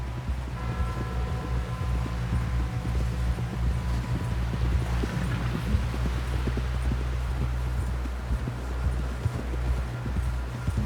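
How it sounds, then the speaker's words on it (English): Horse hooves clip-clop in a steady rhythm in the Red Dead Redemption II video game, heard as a continuous trot under a low rumbling drone and wind. "Someone help John down off this horse."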